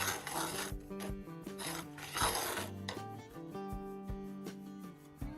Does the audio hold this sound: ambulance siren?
no